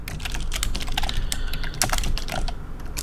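Someone types a short code comment on a computer keyboard, a rapid run of crisp, close key clicks of uneven rhythm with brief pauses and no voices.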